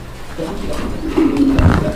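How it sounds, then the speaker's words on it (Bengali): Lahori pigeons, a black-coloured pair kept at a farm, give low throaty coos that swell in the second half, close and fairly loud with no talk. "আরও একজোড়া কবুতরের কালেকশন রয়েছে লাহোরি কবুতর"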